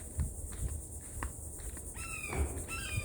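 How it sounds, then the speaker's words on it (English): In a Florida woodland, a Carolina wren and a cardinal sing with clear, whistled phrases near the end, over a steady high insect drone and faint background rumble. "That's a Carolina wren and a cardinal."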